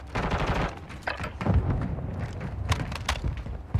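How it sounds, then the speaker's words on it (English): Gunfire in Call of Duty Warzone Plunder, with a sniper shooting at the player: a rapid series of sharp in-game shots and thuds, some near and loud, others fainter, arriving in quick irregular bursts. "I'm getting sniped at from right here."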